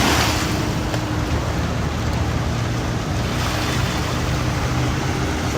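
Floodwater waves in flooded Manila streets splash and slap against a moving boat, a dense, loud, continuous rush of churning water and wind with no pauses.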